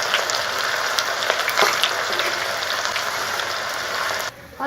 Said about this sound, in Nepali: अदुवालाई रातो हुन्जेलसम्म भुट्नुपर्छ